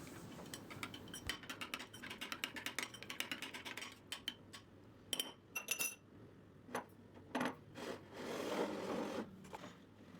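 A spoon stirs semolina with boiling water in a bowl to make içli köfte dough, giving close, rapid clinks and scrapes against the bowl that give way to a softer, wetter churning, with no voices.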